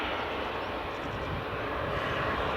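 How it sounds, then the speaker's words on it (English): Steady broadband jet engine roar of a WestJet Boeing 737 taxiing at Edinburgh Airport, continuous and fairly distant with no talk over it. "Got the WestJet 73 just taxiing along there, folks."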